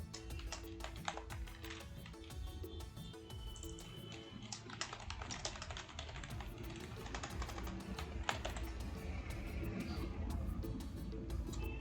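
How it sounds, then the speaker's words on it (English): Rapid typing on a computer keyboard, with crisp, close key clicks in irregular bursts that run steadily throughout, alone with no talk. "you can search on the search bar by typing the keywords"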